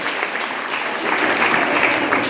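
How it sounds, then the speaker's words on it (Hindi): Loud applause from students at a girls' school Hindi Diwas celebration, a dense, steady roar of many hands clapping together that swells a little midway. "एक बार जोरदार तालियां आप अपने लिए बजा लें"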